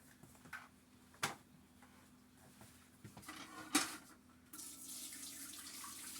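Tap water runs into a cooking pot being readied for steaming collard greens, starting quietly with a couple of clunks and swelling into a steady stream near the end.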